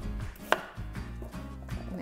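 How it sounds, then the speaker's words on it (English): A knife dicing peeled Yukon Gold potatoes on a cutting board, a handful of soft irregular chops close by with one sharper knock, and no talk. "So just give them a nice dice"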